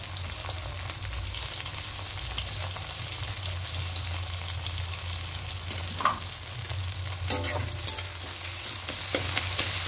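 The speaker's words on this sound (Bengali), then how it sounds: "লবণটা দিয়ে আর একটু ভেজে দেবো, তাহলে টমেটোগুলো নরম হয়ে যাবে।" Chopped tomatoes frying with salt in a pan, a steady close sizzle that runs throughout, with a few light scraping stirs and taps near the end and no talking.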